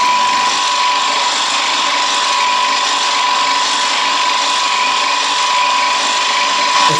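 A pipe threading machine works steadily on a pipe during a plumbing trade test, giving a loud, continuous mechanical whir with a steady high tone and no pauses.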